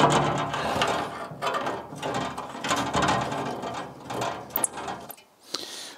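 A ratchet wrench tightens bolts on new side steps for an old rusty truck, giving rapid, close, repeated clicking in bursts over several seconds.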